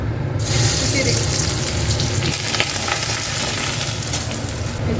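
Chopped garlic with kalo jeera frying in oil, a steady dense sizzle that stays loud and close throughout without any talk, for a Bengali bottle-gourd-leaf bata dish.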